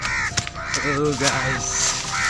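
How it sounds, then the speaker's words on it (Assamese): Several crows caw harshly and repeatedly nearby, making a noisy racket, while someone talks over them outdoors. "কাউৰীবিলাকৰ পুৰা হাল্লা"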